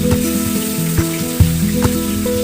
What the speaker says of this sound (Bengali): কড়াইতে চিকেন রোস্ট ভাজা হচ্ছে